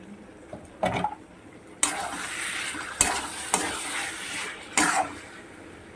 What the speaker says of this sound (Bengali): এইভাবে আমি আরও পাঁচ মিনিট কষিয়ে নেব